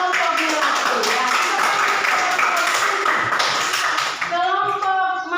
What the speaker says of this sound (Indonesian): tepuk tangan dulu buat kelompok melati ya